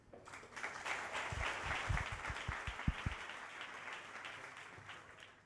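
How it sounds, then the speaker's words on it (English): An audience at a London DevOps meetup held at Facebook gives a round of applause, a soft burst of clapping with a few sharp, distinct claps standing out before it fades. "Big round of applause, please."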